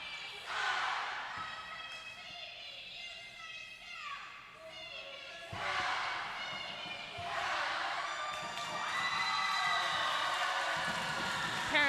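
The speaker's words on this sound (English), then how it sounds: "Parents on CB Southside cheering up their players." Parents cheer for their players in a gym at a girls' high school volleyball match, bursts of shouting and whooping that swell and fade with a crowd din underneath, with children's voices mixed in.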